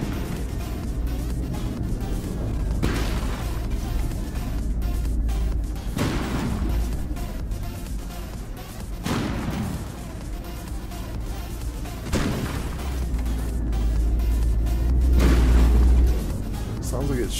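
Heavy booming shots from a tank gun in a video game, several deep blasts spaced a few seconds apart over a steady engine rumble, with people talking throughout.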